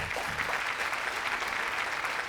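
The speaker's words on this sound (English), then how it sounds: "Round of applause for all 4 teams." Steady applause from a quiz show audience greeting four competing school teams at an insurance awareness quiz zonal round, a continuous dense clatter of clapping filling the whole stretch without pause.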